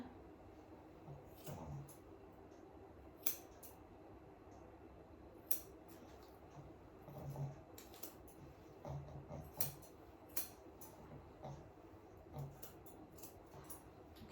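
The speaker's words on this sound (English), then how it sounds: "just get the scissors and go each corner" Scissors snipping through a short-clipped Shih Tzu's coat during a grooming session, giving scattered light, close snips and faint clicks spread across the stretch over a low steady room hum.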